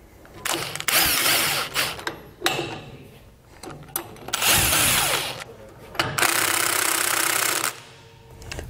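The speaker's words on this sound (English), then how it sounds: "Now we'll come back with a 23 millimeter socket and tighten these down evenly across both U-bolts." A power impact wrench drives a 23 mm socket onto the U-bolt nuts of a Dexter trailer axle, firing in three loud, sustained bursts of hammering rattle separated by short pauses.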